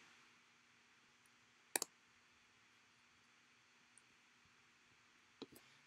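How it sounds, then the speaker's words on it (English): Computer mouse clicks while a Microsoft Teams files tab is opened, a close double click near the start and another quick pair near the end, soft and isolated over faint room hiss. "Clicking on the Files tab"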